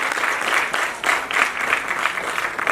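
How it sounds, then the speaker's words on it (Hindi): Loud, vigorous applause from an audience at an Indian awards ceremony honouring performers, many hands clapping in dense, surging waves with no talk over it. "बड़ी जबरदस्त जोरदार तालियां होती हैं।"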